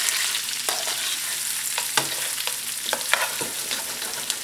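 Onions, green pepper and red chili flakes fry in a pan with a steady, fairly loud sizzle, broken by occasional sharp clicks and scrapes of a utensil stirring close by.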